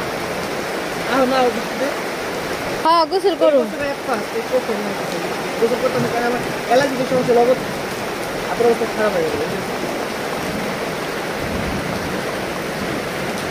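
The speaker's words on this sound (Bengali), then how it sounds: "অনেক জোরে বৃষ্টি নামতেছে," Heavy rain falls steadily as a continuous loud hiss and patter, with a brief sharper burst early on, while a person talks over it.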